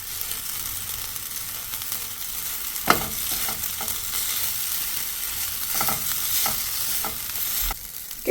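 Sugar being stirred into vermicelli frying in a pan, a steady close sizzle broken by several sharp scraping strokes of a spoon against the metal, with no voices.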